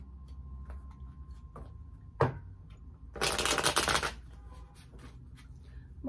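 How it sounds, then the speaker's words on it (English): Tarot cards being shuffled, a crisp close riffle burst lasting about a second, surrounded by scattered light taps and card handling in a quiet room. "I'm gonna pull from the tarot."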